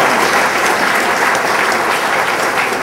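Loud, steady applause from an audience at a policy event fills the room, dense continuous clapping with no pauses and no voices above it.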